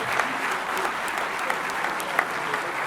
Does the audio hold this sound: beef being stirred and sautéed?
no